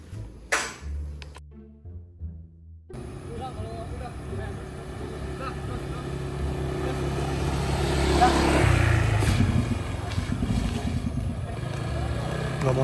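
A Kawasaki Ninja 250 FI with a hard-starting engine being cranked repeatedly and failing to start, giving a sustained mechanical drone with a few short bursts early on, close by, while people talk throughout.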